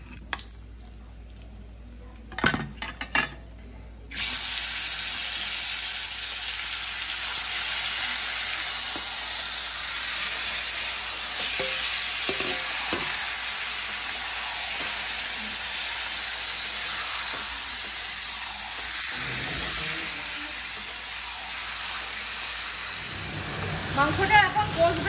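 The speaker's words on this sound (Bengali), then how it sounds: "ছোট এলাচ, লবঙ্গ আর দারুচিনি ফোড়ন দিয়ে দিলাম। ম্যারিনেট করে মাংসটা দিয়ে দিচ্ছি।" Marinated mutton with cardamom, clove and cinnamon hits hot oil, giving a loud, sustained hissing sizzle that runs steadily after a few brief clatters, then fades near the end.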